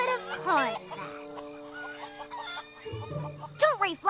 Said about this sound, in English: Girls, Fluttershy, your chickens are on loose.